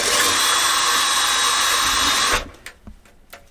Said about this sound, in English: you drill through it.